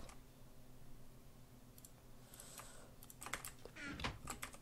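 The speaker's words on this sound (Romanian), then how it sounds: "Dacă sunt prea tare tastatura, e vina mea, pentru că tastez ca un retard." Fast, uneven typing on a computer keyboard, a steady patter of small clicks that grows busier and louder toward the end, close to the microphone with no speech over it.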